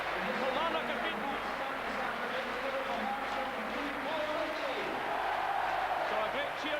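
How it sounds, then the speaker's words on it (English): Football stadium crowd roaring and cheering after Paul Ritchie scores his second goal for Hearts against Kilmarnock, a dense sustained wall of voices with a commentator speaking over it. "So a great cheer goes up as Paul Ritchie gets his second goal of the game"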